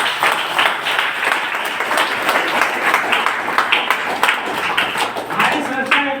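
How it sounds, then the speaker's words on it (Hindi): A room of people claps for the company CPS Tennis, dense, lively applause that stays steady throughout, with some voices mixed in near the end. "हमारी कंपनी सीपीएस टेनिस के लिए जोरदार ताली बजा दो"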